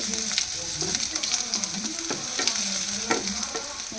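Crushed shallots fry in hot oil with mustard seeds and fenugreek for a mango curry, giving a steady close sizzle broken by scraping stir strokes and small spattering pops.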